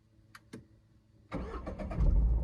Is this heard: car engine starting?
yes